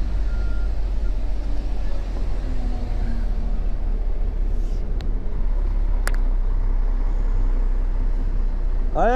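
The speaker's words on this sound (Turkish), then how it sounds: "Bu araba geri geliyor." A heavy truck rolls slowly in reverse under a constant low engine rumble, with faint warning beeps and a brief hiss near the end, heard from inside the cab.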